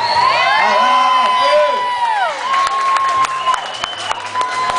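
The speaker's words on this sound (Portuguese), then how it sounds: "bater uma salva de palmas aí pro Matheus ou não?" Applause and cheering from a crowd at a birthday party, with whistles and shouts layered over sustained clapping that stays loud throughout before easing slightly.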